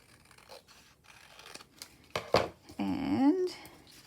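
Scissors snip through paper while a vintage French document journal cover is trimmed, a few short crisp cuts followed by a longer rasping slice, close and fairly quiet with no talk.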